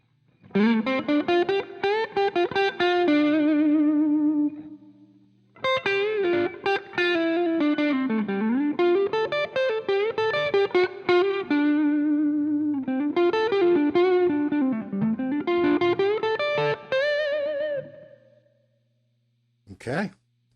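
Electric guitar with a light overdrive, played with a pick: sustained bluesy phrases with bends and slides in three long passages split by short gaps, close and bright, ending in a short final stab, without talk.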